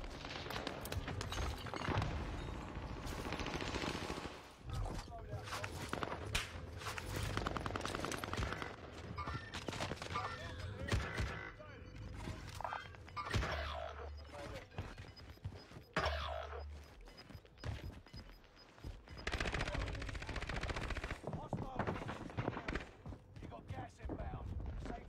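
Dense, continuous video game gunfire with rapid bursts and shots running throughout, mixed under a player's excited, near-constant talk.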